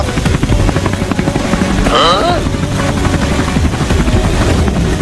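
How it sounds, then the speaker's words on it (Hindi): A helicopter drones loudly and continuously with rapid rotor chop, while a voice briefly calls out over the noise partway through. "अरे वहाँ तो एक हेलीकॉप्टर भी उड़ रहा है"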